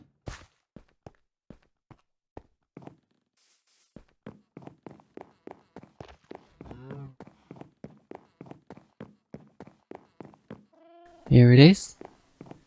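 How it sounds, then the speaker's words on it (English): Minecraft cats in a garden give a meow-like yowl amid a steady run of soft game footsteps, followed by a louder drawn-out cat call near the end. "we're gonna go to my cat garden now"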